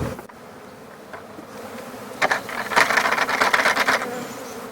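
A swarm of bees being relocated by brute force gives off a dense insect buzz that swells loudly partway through and stays busy to the end, with no voices.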